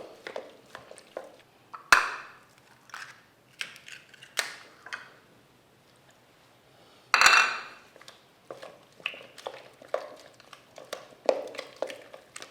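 Egg being worked into choux pastry dough with a spatula, giving scattered soft scrapes and clinks against the bowl, with two sharper knocks standing out, close and fairly quiet.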